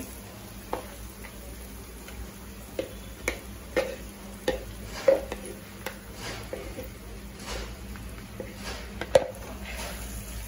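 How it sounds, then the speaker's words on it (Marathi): Dal being stirred in a tempering on low gas while making dry zunka, with faint sizzling under a string of light, irregular scraping ticks from the spoon against the pan. "आणि ही डाळ आहे ना आपल्याला हलवत राहायचे, सारखं मोकळी करून घ्यायचे"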